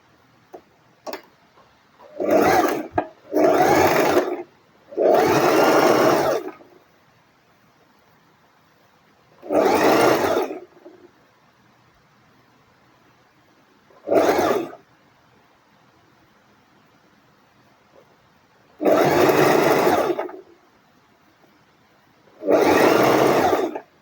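A sewing machine stitches a seam on a gown in short separate bursts, each a few seconds of steady, close whirring, with quiet gaps between runs and no talking.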